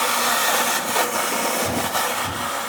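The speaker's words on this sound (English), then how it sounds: "turning on what is possibly the loudest Hoover ever invented" A very loud Hoover vacuum cleaner running at close range, a harsh sustained roar with a few brief bumps and shifts as it moves.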